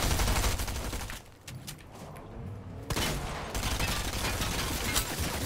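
Gunfire aimed at the player in a video game crackles in dense, loud volleys that thin out into a brief lull around the middle, then return as another sharp crack followed by sustained shooting.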